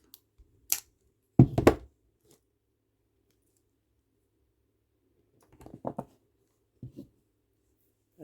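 Scissors snip off the cord ends of a kandi ring after two strings are tied tight, giving a couple of brief close cuts with light handling clicks between near-silent gaps.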